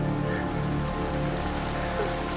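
Steady rain falling, a dense, even hiss of countless drops striking surfaces, close and continuous throughout with no voices.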